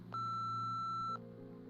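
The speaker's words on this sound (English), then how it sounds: "We're gonna get a voicemail here." A single steady electronic voicemail tone in the game Nobody Wants To Die sounds for about a second, clear and pure over a low background hum, then cuts off abruptly.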